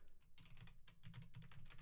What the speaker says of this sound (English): I'm so used to typing that URL in.